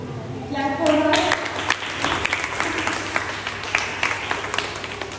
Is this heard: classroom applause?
yes